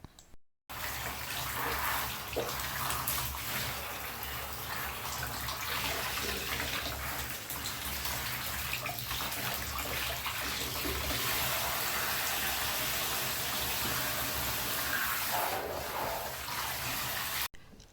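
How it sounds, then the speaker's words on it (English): Steady, continuous spray of water from a shower head rinsing vertical blinds strand by strand, a loud close broadband rush that runs almost unbroken from start to end. "This is how I normally rinse them, by using the shower head and rinsing one strand at a time until they're all done"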